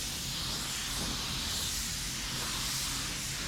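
Continuous airy hiss of an HVLP paint spray gun spraying car base coat at 25 psi, a steady bright rush of air with no pauses, close up.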